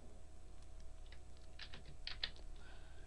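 Faint, quiet computer keyboard typing, a few soft scattered key clicks over a low steady hum, for cutting and pasting in a tutorial.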